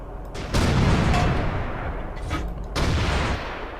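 Loud tank cannon fire from the AMX 13 75 in World of Tanks, two heavy booming shots with a rolling rumble after each, close and alone.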